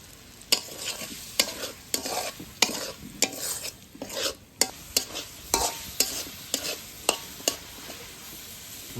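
Spiced potatoes with chilli and coriander paste fry and sizzle quietly in a pan, punctuated by regular sharp scrapes of a spatula stirring roughly every half second, close with no talk.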